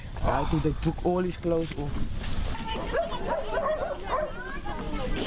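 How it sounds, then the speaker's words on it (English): A dog in a Vrygrond township home in South Africa gives a few short yips and whimpers near the start, while a person talks over them and children chatter in the background. "that's my dog"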